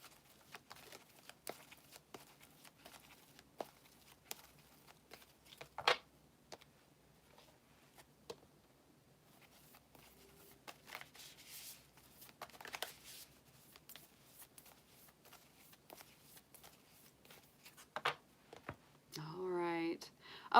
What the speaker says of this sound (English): Getting all these shuffled up for our next sign.